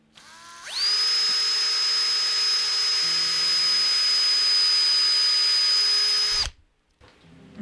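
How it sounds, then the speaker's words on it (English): An electric drill bores a strap button hole into the body of a Les Paul Junior guitar under restoration. A sharp whine spins up, holds steady and loud for about six seconds, then cuts off abruptly. "and then I drill a hole"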